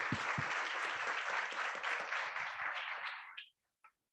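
Audience applause fills a statistics conference hall, a steady dense wash of clapping that carries on for about three and a half seconds before stopping abruptly, followed by a brief faint clap.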